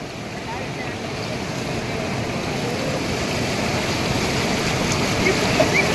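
Water from the overflowing Veppur lake rushes past in a loud, continuous roar that holds steady and swells slightly.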